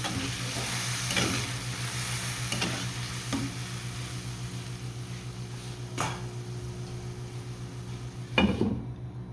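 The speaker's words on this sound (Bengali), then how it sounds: "এখন আমি যে মশলা গুলে রেখে সেটা দিয়ে দেবো দিয়ে তো ভালো করে কষিয়ে নেবো" Spice paste stirred and sizzling in a pan with onion and tomato, a steady frying hiss with periodic louder scrapes of the spoon and a final clatter near the end, close by and without talk.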